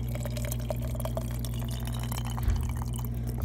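Filtered water pours steadily into a Nike sport squeeze bottle, a continuous close trickle with small drips, no speech.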